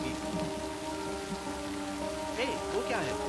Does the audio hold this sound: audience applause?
no